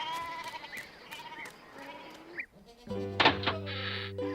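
Goats bleat several times in short wavering calls, close by, followed by a burst of louder mixed sound with a steady tone.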